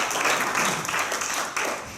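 Applause from attendees at a faculty senate meeting fills the room, a steady, moderately loud wash of clapping that runs unbroken for the whole moment.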